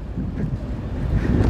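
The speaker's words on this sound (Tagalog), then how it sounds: "So medyo mahangin paggabi." Night wind gusting in Luneta (Rizal Park), a steady low rushing buffet against the microphone, fairly loud and unbroken.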